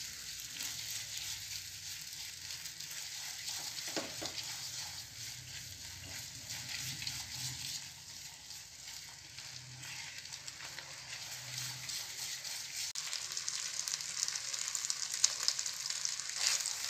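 Sugar melting over a low flame for aloe vera halwa, a faint, steady low sizzle and bubbling hiss with occasional soft stirring sounds, continuing unbroken without any talk.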